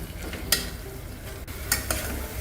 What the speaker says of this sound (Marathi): 1 चमचा आलं लसूण पेस्ट घालायची. आता हे थोडं परतून घ्यायचं आहे.